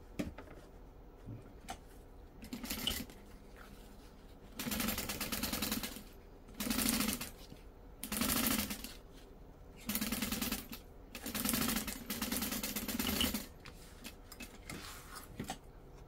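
Sewing machine stitching folded fabric pieces for a bag, running in several short bursts of a few seconds each with brief quiet pauses between them, close and fairly loud.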